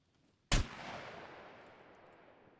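One sharp gunshot from a weapon on single fire in the survival game SCUM cracks out loud and near, followed by a long fading echo tail, with no voices.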